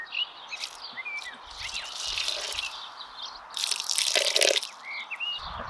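A freshly transplanted vegetable seedling in a kitchen garden is watered generously: a steady splash and patter of water falling onto soil, with birds chirping in the background and no talk.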